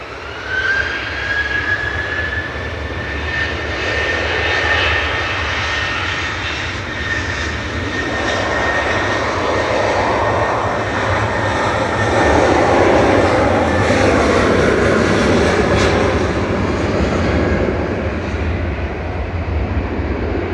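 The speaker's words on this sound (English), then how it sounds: "There goes KLM's PHBXY heading back to Amsterdam with flight 1036, 737-800." A KLM Boeing 737-800 jet departing Manchester Airport, a continuous, powerful engine roar with a high whine, loud and steady for about twenty seconds and swelling slightly in the middle as it climbs away.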